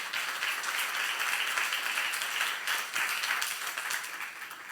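A church congregation claps together during a sermon, a continuous, even wash of applause from many hands filling the room without a break for nearly five seconds.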